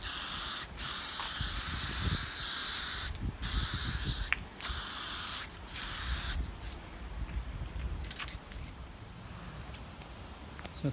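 Clear coat sprays onto a restored Ford XR5 Turbo headlight in several close, hissing aerosol bursts of a second or so each, separated by short pauses, then fading to quieter handling sounds.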